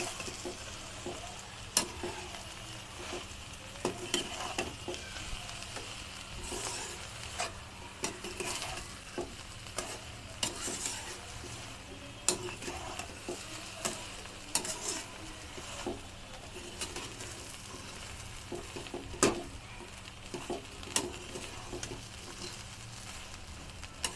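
A spoon stirs egg bread upma frying in a pan, a faint continuous sizzle broken by regular scraping strokes and light clinks against the metal over a long stretch.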